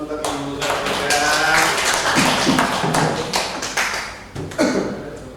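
A small audience applauding for a woman at an indoor teacher training session, a few clustered hand claps and taps, loud and close, mixed with talking.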